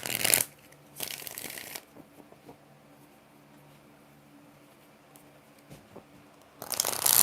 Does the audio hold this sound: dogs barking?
no